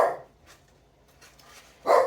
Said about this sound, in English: barking at another dog walking by, probably.